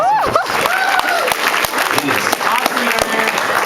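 Audience applause fills a voice acting panel at Fan Expo 2013, steady and close, with people talking and calling out over the clapping.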